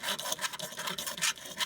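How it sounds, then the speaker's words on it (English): Fine-grit sandpaper rasps back and forth against toy car wheels in quick, even strokes, soft and close with no talking. "I'm done sanding it here on the 400 grit, and I'm almost done on the 800"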